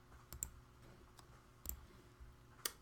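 Mouse clicks in a Blender 3D modeling session, a handful of sharp, light ticks spaced irregularly, close and quiet, with no talking.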